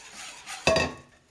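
Pastry cream mixture is poured back into a saucepan, ending in a sharp metallic clink and clatter of pan and utensil, close and brief, after a soft rustling lead-in.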